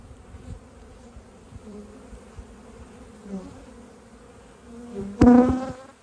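Honeybees buzz close by while a colony is split between hives, a faint droning hum that swells into a louder, sharper buzz near the end.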